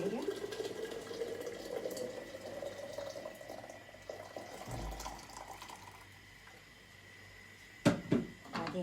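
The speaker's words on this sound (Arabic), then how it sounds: "وبعدين هنزل عليه بمية مغلية" Boiling water pours steadily onto fava beans soaked overnight, its rushing pitch climbing for about four seconds before fading. A sharp clatter follows near the end.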